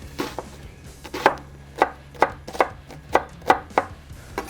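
A knife chops through food on a cutting board while meatballs are prepared, giving about ten sharp, close knocks in an uneven rhythm over a quiet room.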